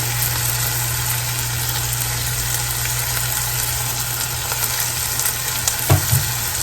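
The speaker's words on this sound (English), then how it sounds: "Let that sear a second or two more." Boston butt pork sears in a hot pan with a loud, constant sizzle and a low steady hum beneath, with a brief knock near the end.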